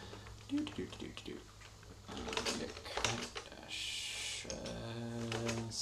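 Computer keyboard typing while working on a Linux kernel stack offset randomization patch, with bursts of key clicks mixed with a voice humming and talking and some background hum.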